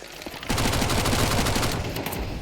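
Pistol fire during a late round of a competitive first-person shooter match, Akimbo versus Take Flyte at Fragadelphia: a dense stream of sharp cracks starts abruptly after a short quiet moment and keeps rattling loudly to the end.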